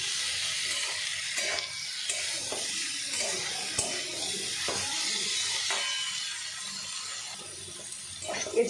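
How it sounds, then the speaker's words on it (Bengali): Jackfruit fries in oil in a pan, a steady low sizzle and hiss with faint clinks and stirring scrapes and brief voices in the background. "এঁচড়টা ভাজা ভাজা হয়ে গেছে"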